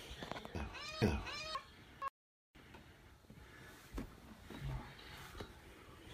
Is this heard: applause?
no